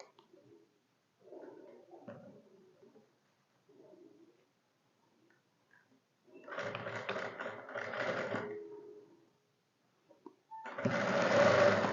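A sewing machine runs in two short bursts while stitching a shirt neckline, the second run louder, with quieter handling and a soft voice in the pauses.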